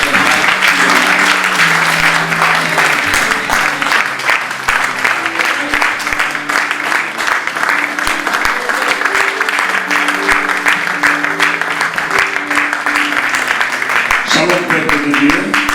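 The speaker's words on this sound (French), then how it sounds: "Sans plus tarder, sous vos acclamations, nous accueillons l'apôtre Mike." An audience at a church service gives sustained applause and cheering to welcome an apostle to the pulpit. The steady, dense clapping fills the whole stretch over a tonal musical backing.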